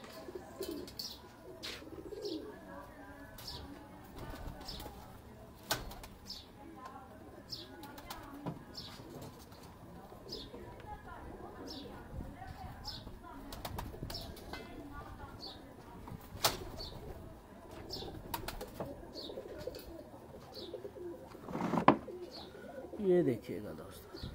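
Pigeons cooing softly and repeatedly, with occasional wing flaps and a few sharper chirps, in a quiet outdoor setting.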